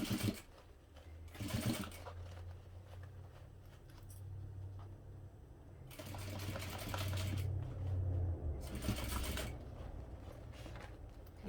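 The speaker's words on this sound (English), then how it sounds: "So when you get to the marked seam line, you'll sew" A sewing machine stitches vinyl bag lining in several bursts of fast, rattling needle work, with quieter pauses and a low motor hum between runs; no voices are heard.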